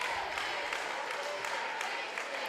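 Crowd at a varsity boys high school basketball game applauding at halftime, a dense steady patter of clapping and murmur filling the gym throughout.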